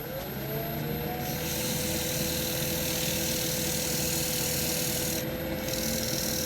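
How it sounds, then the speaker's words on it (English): A wood lathe spins a winged bowl while wax is buffed onto it, producing a continuous close rubbing, rasping friction over the lathe's steady motor hum, unbroken throughout. "So I'm going to try and buff this carefully with the lathe running."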